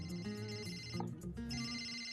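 A phone's ringtone plays in short repeating melodic bursts, moderately loud and close, signalling a call from home during a cricket match.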